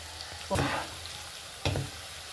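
Spices with turmeric powder stirred in a hot pan for Kerala sardine pickle, a low sizzle broken by two sharp scraping stir strokes, the second about a second after the first.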